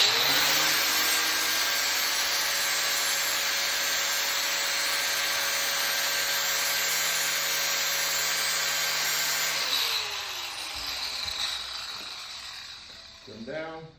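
An angle grinder bevels the edge of a WP-250 welding positioner part, a loud, steady whine that runs unbroken for about ten seconds before winding down and trailing off.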